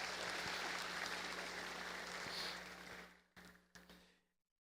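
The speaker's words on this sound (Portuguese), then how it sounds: "Uma salva de palmas para eles." A church congregation applauds after a sermon moment. The soft, steady clapping fades out near the end, leaving a few scattered claps before silence.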